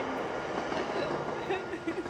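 A train rolls past on New Zealand's North Island with a steady, loud rumble of wheels on rails throughout a brief moment.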